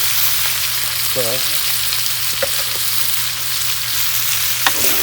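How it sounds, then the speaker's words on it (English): Onions and garlic browning in a pan for rustic pork satay, a loud, steady, close sizzle throughout, with a few faint clinks and a brief voice. "decided I'm going to actually just brown off the onions and garlic"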